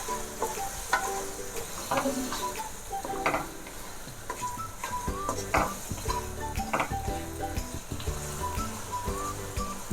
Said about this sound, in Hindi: अब मैं इसमें हाफ कप जो मैंने टमाटो पेस्ट ली थी वो डाल रही हूँ। इसको हम अच्छे से मिक्स कर लेंगे।